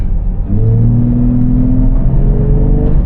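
A Nissan Patrol Y61 in second gear on a dyno gives a loud, steady engine drone that holds and gradually climbs in pitch over about two and a half seconds.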